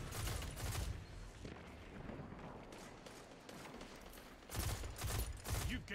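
Rapid auto rifle fire in Destiny 2, loud sustained bursts that come in clusters at the start and end with a quieter stretch of distant shooting between them.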